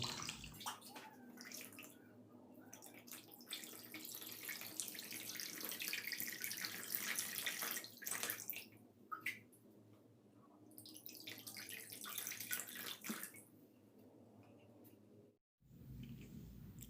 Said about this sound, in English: So pour your clean water